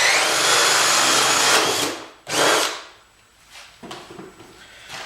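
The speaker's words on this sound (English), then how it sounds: "Drill a hole approximately in the center of the module through the center brace." A power drill whines loudly at high speed for about two seconds, drilling through a module's center brace, then spins briefly again before trailing off into a few short clunks.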